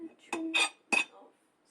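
A knife scrapes and taps against a plate while trimming the edges of a heart-shaped cake, three short close clinks and scrapes in quick succession, with no talk.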